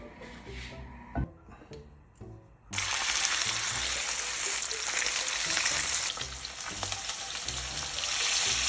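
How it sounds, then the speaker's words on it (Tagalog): Flour-dusted milkfish (bangus) steak frying in hot oil, a loud, close, continuous sizzle that bursts in after a few quieter seconds of kitchen clatter, with no talk. "Habang nakasalang naman yung ating bangos na piniprito"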